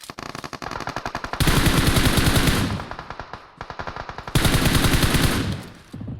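Automatic gunfire in the mobile battle royale game PUBG Mobile crackles in fast bursts, with two long sustained volleys separated by shorter rapid strings of shots, loud and close.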